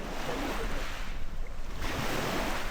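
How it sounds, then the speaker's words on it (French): Steady roar of short, choppy sea waves off Greece with wind buffeting the microphone, a continuous wash of surf without pause. "on voit il y a des trains de vagues assez courts"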